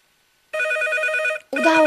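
A telephone rings on a radio call-in line, one long electronic trill after silence, then a short break and the start of a second ring.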